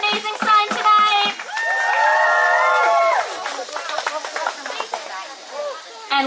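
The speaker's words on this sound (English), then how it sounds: "one big cheer for everyone who brought an amazing sign tonight" A rally crowd outside a house in Washington DC cheers loudly, with shouts and whoops swelling into a sustained roar, then breaking into scattered yells and clapping.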